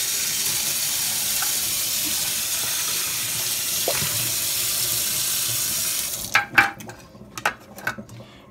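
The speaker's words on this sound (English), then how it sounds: "Let me rinse this out again." Kitchen tap running steadily to rinse a butter mold during homemade butter making, loud continuous water flow that stops and gives way to a few clinks and knocks.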